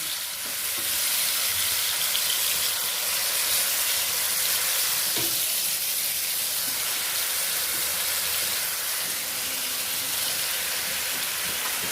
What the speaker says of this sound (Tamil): இந்த எண்ணெயில் நம்ம இந்த சிக்கனை அப்படியே பொரிச்சு எடுத்துடலாம்